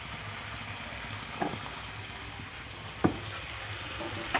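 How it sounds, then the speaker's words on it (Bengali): Food sizzling and frying in a pan while being stirred, a continuous hiss broken by a few soft knocks of the spoon, heard up close. "এবার এটাকে ভালো করে কষাবো।"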